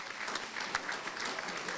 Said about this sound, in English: Rebecca, give her a round of applause.